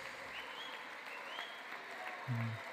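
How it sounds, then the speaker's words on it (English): Brief clapping in a large crowd, a short burst of applause under background chatter, with a low hum at the end. "Oh, she's clapping."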